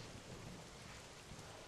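Rain falls in the dinosaur survival game The Isle as a faint, even, unbroken hiss, with no voices or other sounds standing out.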